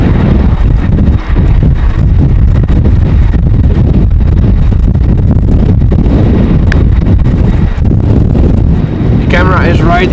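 Strong storm wind at Amsterdam Schiphol airport pounds a tripod-mounted camera microphone in a heavy, continuous low roar with gusty surges, and a brief voice comes through near the end.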